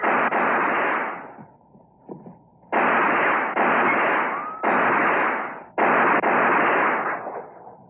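Gunfire in a western film scene: a series of loud, booming shots, five heavy blasts with ringing decay, the first followed by a quieter pause before the rest come in quick succession.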